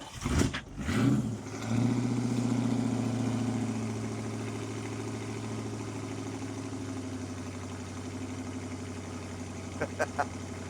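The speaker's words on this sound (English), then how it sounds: "It's asking a lot of it to idle." Chevrolet Camaro engine with no choke, idling low and steady as it warms up after a few rough revs at the start, with faint clicks near the end.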